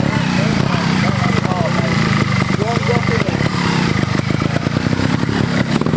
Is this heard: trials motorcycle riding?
yes